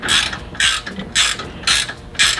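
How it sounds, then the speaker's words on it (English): A ratchet wrench tightening the bolt on an off-road tire carrier swing arm, giving repeated bursts of bright metallic ratcheting clicks at a steady rhythm, close and loud with no talk. "This happens to be a ratchet wrench, makes it easier for us."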